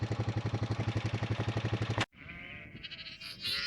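A ewe bleats in a long rapid pulsing call for her lambs, loud and close, then breaks off. Quieter bleats and rustling follow.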